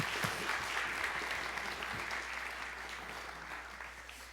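A church congregation at a Wednesday prayer meeting claps to welcome a visiting pastor, a full, sustained burst of applause that slowly tapers in loudness over several seconds.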